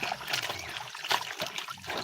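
Gabon leaves being washed in water for a bath, giving a soft, continuous trickling and light splashing with small sloshing bursts, close by and fairly quiet, with no one talking.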